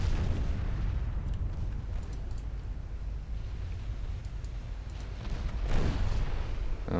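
A battleship's magazine flash fire explodes in the naval game Ultimate Admiral Dreadnoughts, a deep sustained rumbling roar with a fresh boom swelling near the end, heard without talk.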